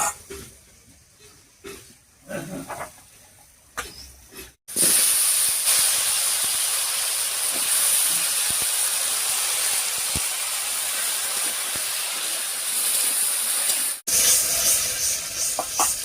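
Chopped onions drop into hot oil over a cumin tempering and burst into a loud, even sizzle that holds steady, with one brief break near the end; softer clinks and stirring come before the oil erupts.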